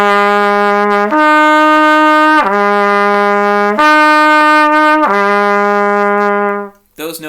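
Trumpet lip slurs on first valve, sustained tones alternating between a lower and a higher note four times in a slow even pattern, loud and close, with no talking.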